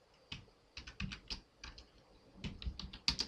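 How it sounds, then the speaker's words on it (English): Bursts of key clicks from a computer keyboard while a file name and command are entered in a terminal, with short irregular runs of taps separated by pauses, close and fairly quiet. "You will type the name of the file"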